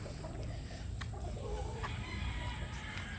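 Chickens of the Butcher Mt. Banahaw line cluck softly in the background over a steady outdoor hiss, with a few faint calls scattered throughout.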